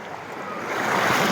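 Cold Baltic Sea waves wash in a steady broadband roar that swells slightly louder toward the end, with wind across the shore and no voices.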